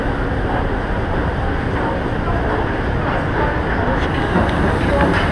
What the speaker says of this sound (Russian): В метро сейчас находимся, ждем поезда метро.